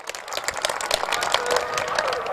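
An audience at a political gathering applauds to welcome a Congress candidate, dense continuous clapping from a crowd building in strength over a couple of seconds.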